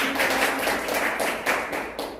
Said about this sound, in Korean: 다시 한번 박수해 주십시오